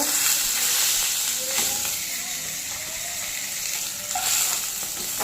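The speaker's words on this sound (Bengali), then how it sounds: "এভাবে আমি সব মাছগুলো এক এক করে ভেজে নিলাম বন্ধুরা" Pabda fish frying in hot oil in a kadai give off a steady, close sizzle and crackle that holds throughout without a break, with no talking over it.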